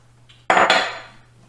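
A single sharp clatter of a utensil against a bowl, close and loud, fading quickly into a brief ringing tail while coleslaw ingredients are mixed.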